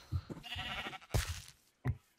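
Blocky Minecraft sheep give three short bleats: two clustered early and one more a little later, each a brief nasal call with quiet gaps between.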